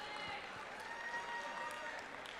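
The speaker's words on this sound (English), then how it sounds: "Round of applause for Alex." Applause from the crowd at a FIRST Tech Challenge robotics event, fairly quiet and continuous with a faint ringing tone in the background.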